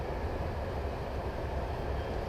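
A ČD 163 Škoda 71E electric locomotive coasting near full speed in the SimRail train simulator, giving a steady, dense rolling rumble with a low mechanical drone that holds evenly throughout, with no talking.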